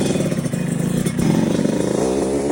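A motorcycle engine runs loud and close, then revs up as the bike rides off, a steady rough drone with a clattering thump midway and no speech over it.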